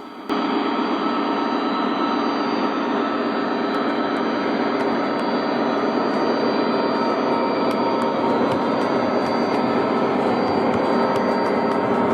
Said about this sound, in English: The crew's taking the train to the first stop at Crystal Ice.